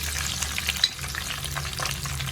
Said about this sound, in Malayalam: കടുക് നന്നായിട്ട് പൊട്ടി കറിവേപ്പില ഇട്ട് കൊടുക്കാം.